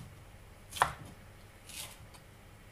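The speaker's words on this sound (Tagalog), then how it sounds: "hihiwain lamang po natin ito into strips" A knife cuts bell peppers into strips on a board, giving one clear chop and a softer second cut, faint against a quiet background.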